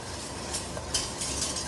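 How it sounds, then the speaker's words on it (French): Broth is poured into a flour and butter roux in a pan for a beef tongue caper sauce, giving a steady close hiss and sizzle with a few brief scraping stirs and no speech. "Et on vient déglacer avec notre bouillon."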